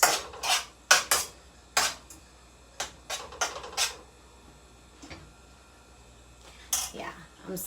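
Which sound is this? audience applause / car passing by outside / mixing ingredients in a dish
mixing ingredients in a dish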